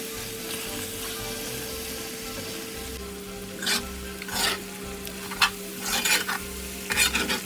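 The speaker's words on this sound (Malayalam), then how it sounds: "പിന്നെ ഫ്ലെയിം മീഡിയത്തിൽ വെച്ചതിന് ശേഷം അടി പിടിക്കാതെ നല്ലതുപോലെ ഇളക്കി കൊടുക്കണം" Mutton curry frying on a medium flame while being stirred, a steady sizzle with intermittent scraping strokes of a spoon against the pan that grow busier toward the end, close up and with no voices.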